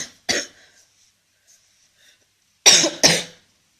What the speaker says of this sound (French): Vive la toux, vive la toux